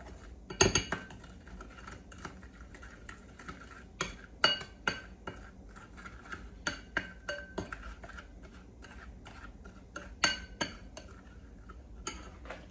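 A spoon stirs brown sugar and cinnamon in a dish, giving repeated clinks and scrapes of metal against the dish, some sharp and close, in an irregular rhythm with no talking.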